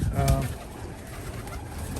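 Low, soft coos from Birmingham roller pigeons close by, a throaty murmur at the start that fades into a quiet, rustling background.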